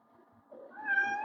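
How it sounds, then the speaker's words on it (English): A domestic cat gives a single rising meow, close and clear, starting low and climbing into a bright drawn-out cry, with no other sound around it. "That's my cat meowing this time"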